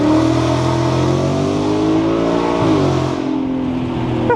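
A Ford S650 Mustang GT fitted with an MBRP race exhaust revs hard and loud up close, holding a steady roar before the pitch swoops down and settles into a lower rumble.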